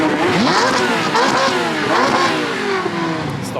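A loud, close sports car on its stock exhaust rumbles and revs, its tone rising and dropping as the car accelerates past on a Montreal street.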